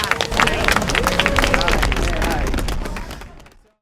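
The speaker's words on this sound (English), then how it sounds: "let's just give ourselves a round of applause for that" A crowd of animal rights activists applauds itself, with loud dense clapping and cheering and background chatter that swell, hold steady, then fade away near the end.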